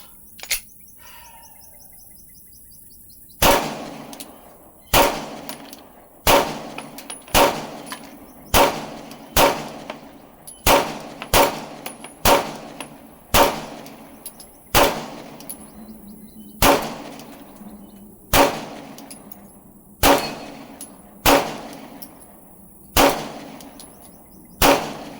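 Glock 19X pistol firing a long run of sharp, loud gunshots, about eighteen single reports at a steady, slightly uneven pace, each with a short echoing decay outdoors.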